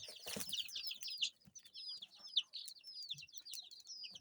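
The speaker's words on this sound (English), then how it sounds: "You can hear some mom with her chicks." A Kienyeji hen clucks softly among her chicks, and the chicks keep up a chorus of high, rapid peeps close by. Brief rustling and flapping come through now and then.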